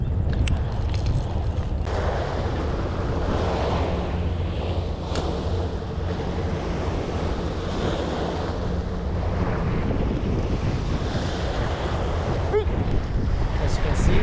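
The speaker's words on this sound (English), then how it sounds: "As you can see, now it's choppy and it's windy." Rough, choppy sea along a Singapore shoreline churns continuously while strong wind buffets the microphone, a steady roar of surf and gusts with no talking.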